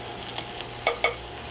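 Sauce poured into a hot pan with garlic for a low-carb lasagna, giving a soft sizzle and a few sharp scraping stirs of a spatula, close by with no talking.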